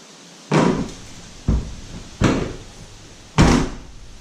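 A Chevy Trax / Buick Encore liftgate, just fitted with a replacement actuator, thuds shut four times in a row, each close a loud, near, solid slam with a short rattle after it.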